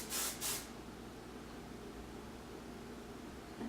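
Two quick hissing bursts of hairspray from a spray can, close and fairly loud at the start, followed by quiet room tone.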